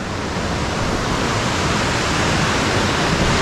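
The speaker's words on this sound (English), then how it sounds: "You hear the river?" A mountain river flows with a broad, steady rushing roar, loud and continuous like churning whitewater, unchanging throughout with no voices.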